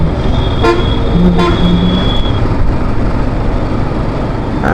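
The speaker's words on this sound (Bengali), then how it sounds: "সে বারবার শুধু হর্ন দিচ্ছে" A car stuck on a narrow village road, near a truck loaded with paddy, sounds its horn several times in short, close honks over a steady rumble of engines and traffic.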